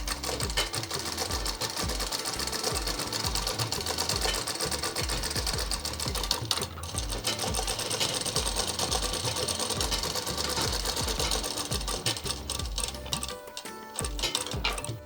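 A sewing machine runs steadily and fast, stitching the side seams of a single-chun frock, with a dense continuous mechanical whir and faint clinks near the end, no voices.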